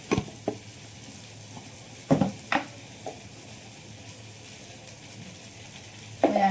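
Kashmiri red chili powder and turmeric hitting hot oil in a home kitchen pan, giving a soft steady sizzle with a few sharp clinks of a spoon or lid against the pan.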